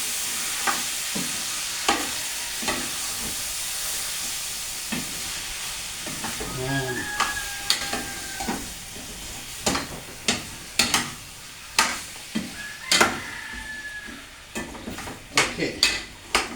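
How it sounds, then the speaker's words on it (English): Curry chicken being stirred in a frying pot, with a steady sizzle under repeated sharp scrapes and clinks of a utensil against the pot, some sparse knocks, and occasional faint background sounds. "I'm going to add and stir it."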